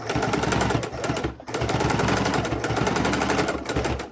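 A sewing machine stitches fabric for a microwave potato bag, running loud and close in a fast continuous buzz with a brief pause near the middle before resuming.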